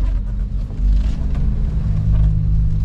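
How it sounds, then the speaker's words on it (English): A DIY plywood-finished camper van being driven, with a steady low engine and road rumble heard from inside the cabin, loud and continuous with no talking. "I decided to take this thing for a little drive."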